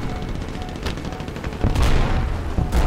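Aircraft bomb explosions in War Thunder with a T-34 tank nearby: a steady wash of game noise broken by two heavy booming blasts, the second one loud and low with a long rumbling tail.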